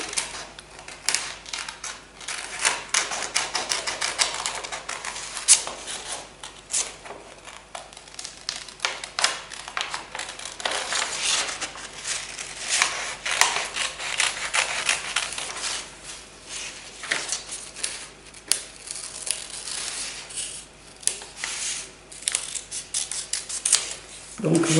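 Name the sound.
scissors cutting fabric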